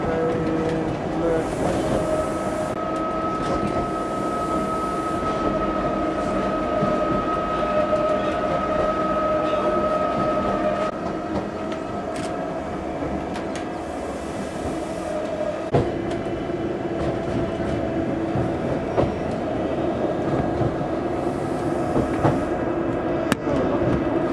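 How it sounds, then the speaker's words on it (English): A small train rumbles steadily along the rails from Lauterbrunnen to Mürren, with faint clicks and tonal whines from the carriage, heard from inside over a long, even stretch. "little train trip from Lauterbrunnen to Murren"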